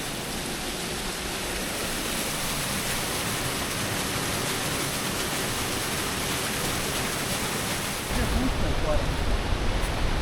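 Flowing water gives off a steady, dense rush that fills the whole stretch and grows slightly louder and closer near the end.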